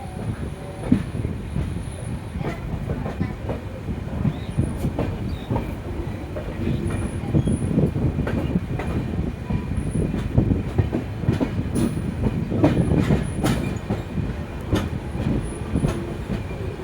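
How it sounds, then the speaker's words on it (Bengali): The Uttarbanga Express runs on rails, a steady rumble and rattle of the carriages with faint squeals and clicks from the wheels, continuous and close throughout. "তো বন্ধুরা, আমাদের ট্রেন"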